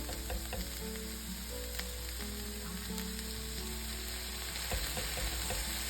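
Ground beef and onions sizzling in a skillet, a steady close crackle under a constant low hum, with a few faint scrapes of stirring near the end and no voices.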